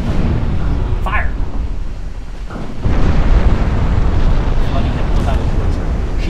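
Battleship guns firing in the naval game Ultimate Admiral Dreadnoughts, a loud rumbling boom that rises and holds as a broad roar, with a voice heard briefly early on.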